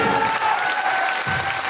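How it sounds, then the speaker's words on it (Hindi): Loud, full applause fills a hall at a motivational speech event as the audience claps with hands raised, a dense continuous roar of clapping lasting under two seconds. "दोनों हाथ ऊपर करेंगे साहब, और जोरदार वाली तालियां"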